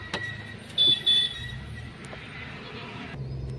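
Car engine pulling away and accelerating during a driving lesson on a student's new car, a low steady drone with brief clinks and road noise throughout.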